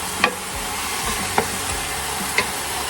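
Pork ribs for adobo sizzle in a pan without added oil, browning in their own fat: a loud, even crackle up close, punctuated by three sharp scrapes or clicks, with no voices over it.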